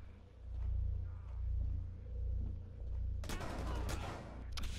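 A pistol fires in Rainbow Six Siege in a loud, rapid burst of shots over a continuous low rumble, with a final short crack at the end.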